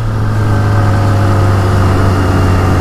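A Kawasaki Ninja ZX-25R 2021 four-cylinder motorcycle engine idles steadily at a fairly high pitch, smooth, close and loud, with a constant low hum and no change in revs.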